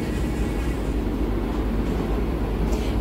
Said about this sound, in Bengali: একদম নির্ধারিত সময় ট্রেন ছেড়ে দিল বারসই জাংশন থেকে।